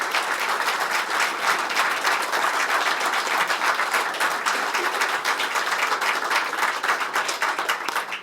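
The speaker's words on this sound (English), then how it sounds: "please give a warm round of applause for Lieutenant General Jack Klimp" Steady, dense applause from a large audience at a leadership award ceremony, welcoming Lieutenant General Jack Klimp; the clapping stays loud and even throughout without letting up.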